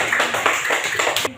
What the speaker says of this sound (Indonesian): Tepuk tangan buat temanmu.